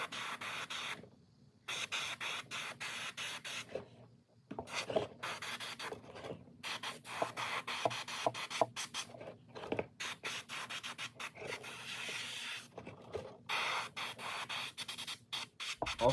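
Airbrush spraying a coat of paint onto a golden baitfish lure, heard as a steady hissing spray in short and long bursts with brief pauses between passes, close and fairly quiet.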